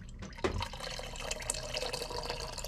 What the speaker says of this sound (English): You just fill it up with water afterwards, and that's it.